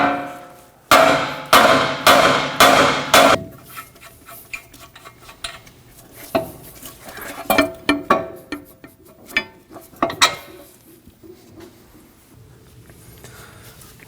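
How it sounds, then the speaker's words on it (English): A hammer strikes the steering knuckle near the tie rod end on a 2016-2022 Honda Pilot: four loud, evenly spaced metallic blows, then a run of lighter, irregular taps and clinks, close up with no talking. "Now we're going to strike the knuckle right on the end here by the tie rod using a hammer"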